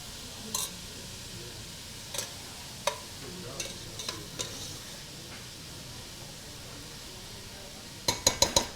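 Bolognese sauce sizzles softly in a pan while a spoon scrapes and clinks against the metal in a few scattered strokes, ending in a quick cluster of taps.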